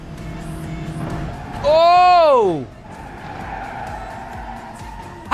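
A car in the BeamNG driving game skids loudly with rising and falling tire squeal for about a second before slamming into a wall, with a person's exclamation and talk around it.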